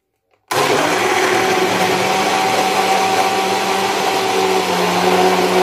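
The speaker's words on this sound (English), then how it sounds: "I'm just doing my cucumber juice." A juicer grinds cucumber with a loud, steady motor whir that starts abruptly after a moment of silence and runs continuously, close and unbroken, with no talk.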